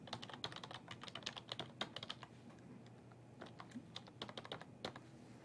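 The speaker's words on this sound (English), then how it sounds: "we're going to have to type in a custom string." Quick, light clicking of keys on a computer keyboard, typed in uneven bursts with short pauses, close and faint.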